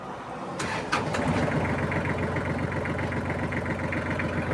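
A Kubota GL-35 Japanese mini tractor's diesel engine cranks and catches, then settles into a steady, close, rumbling idle with a fast, even chug.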